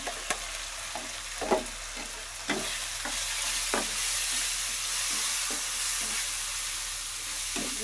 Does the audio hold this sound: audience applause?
no